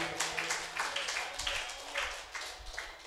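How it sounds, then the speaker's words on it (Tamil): A congregation claps at a Catholic gathering, a steady run of quick, roughly even hand claps over about three seconds, moderately loud, with faint voices underneath. "கைதட்டு."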